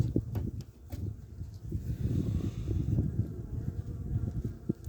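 Honeybees buzz in a steady, close swarm at an opened five-frame hive, with a continuous low drone, punctuated by soft rustling and occasional bumps.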